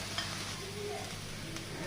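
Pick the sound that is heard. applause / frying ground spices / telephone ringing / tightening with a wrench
frying ground spices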